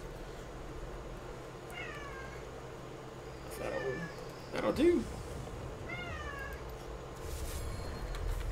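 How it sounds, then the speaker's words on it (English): A house cat meows several times in short rising calls near the microphone during a board game session, with people talking and game noise around it. "Hi, kitty. Down there making your presence known."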